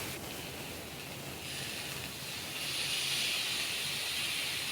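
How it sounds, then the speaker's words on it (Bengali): Ground coriander and cumin sizzle in hot oil in a pan, the spice base for a Bengali fish curry. The hiss is steady and soft and grows a little louder toward the end, with no talking. "1 চামচ ধনে গুঁড়ো, জিরে গুঁড়ো, এভাবে দিয়ে মশলাটাকে ভালো করে ফ্রাই করে নিতে হবে।"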